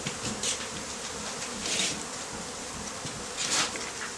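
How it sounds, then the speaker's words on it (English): Honey bees buzz in a loose, airborne swarm after being shaken off a frame during a hive move, a moderately close drone with a few louder passes. "the snappy shakes knock the bees off"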